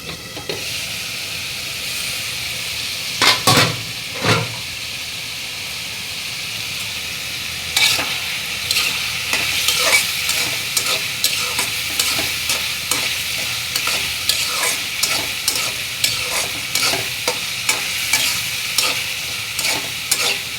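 Dried fish (shutki) stir-fried in a pan, with a steady close sizzle broken by repeated scraping strokes of a spatula that come in quick irregular bursts, and no voices.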